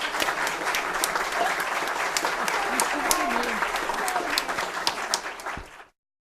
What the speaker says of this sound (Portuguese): espero o aplauso, hein?